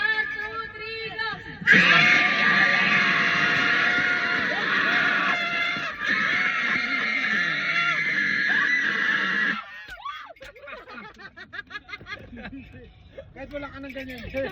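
A family shouts together at New Year, a loud, sustained group yell of several voices that lasts several seconds, followed by quieter scattered talking and laughter.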